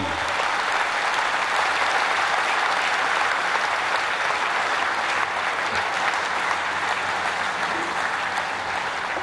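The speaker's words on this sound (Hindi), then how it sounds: "जोरदार, दमदार, जानदार तालियों के साथ स्वागत कीजिए भारत के प्रधानमंत्री" Loud, sustained applause from a large crowd welcomes India's Prime Minister at the commissioning ceremony of the aircraft carrier INS Vikrant, continuing unbroken for about nine seconds.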